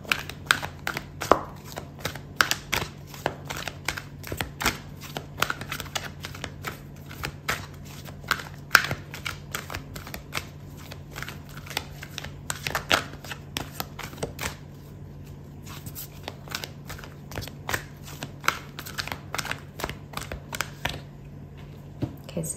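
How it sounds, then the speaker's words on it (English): Tarot cards shuffled by hand in a long run of rapid, close riffling taps and flicks, continuing with brief pauses over a low steady hum. "I'm going to pull out a card for your advice"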